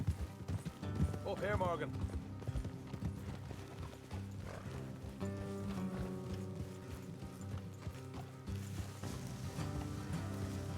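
Horses ridden along a road in the video game Red Dead Redemption 2, with steady clip-clop hoofbeats and a brief whinny early on under a game soundtrack, while a character speaks briefly.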